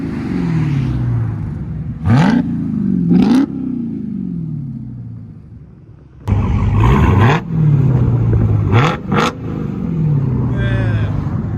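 A 2022 Dodge Charger SRT Hellcat with a 6.2L supercharged HEMI V8 and straight-pipe exhaust idles loudly outdoors in freezing cold, then snaps through sharp revs with whining rises and falls, followed by a longer run of repeated blips.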